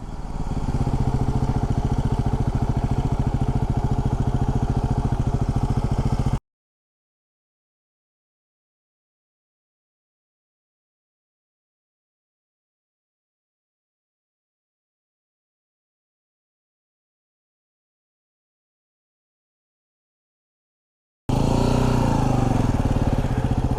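A Yamaha WR250R motorcycle rides up a road in the Santa Cruz Mountains, its engine buzzing close and steady at the start, then dropping out into a long silent gap before returning at the end.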